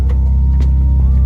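A Toyota KE70 car driving, with a steady loud low engine rumble and drone from inside the cabin, continuous and unchanging across the short stretch.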